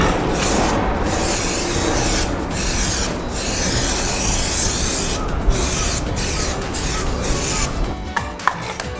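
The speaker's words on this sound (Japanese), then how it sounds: "使用方法はタイヤ側面より10センチから15センチ離して均等にスプレーを吹く。" Prestone tire wax is sprayed onto a car tire sidewall from a can, in several hissing bursts separated by short pauses, close and fairly loud, ending with a few faint clicks.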